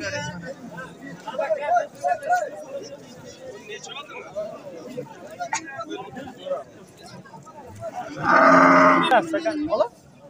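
Cattle moo loudly and close by over a crowded livestock market hubbub in Surxondaryo, Uzbekistan, with people talking throughout; one long, strong moo stands out near the end.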